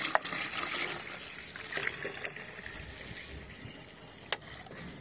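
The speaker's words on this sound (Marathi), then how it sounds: "हे फर्टिलायझर आपण याच्यामध्ये काढून घेतलेलं आहे. ते आपण ओतून घेऊया याच्यामध्ये." Liquid flower-based fertilizer pours into a container for a rose plant, making a soft, continuous splashing trickle with a few small drips and clinks near the end.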